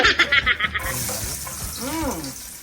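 Oil spatters and sizzles in a pan while adobo fries, with crackling pops under laughter and voices.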